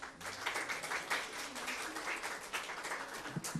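Steady audience applause for a conference panel, a dense wash of many hands clapping throughout, moderately loud with no voices on top.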